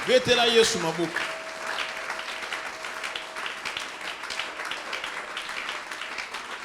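A church congregation breaks into applause, a steady wash of clapping that continues throughout, louder at the start with a brief musical tone, then sustained under a faint voice.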